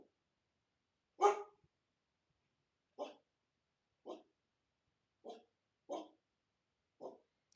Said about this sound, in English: the dog is declaring a squirrel emergency